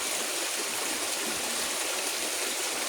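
Steady flowing water rushes continuously at close range, a dense even wash of noise with no breaks and no voices.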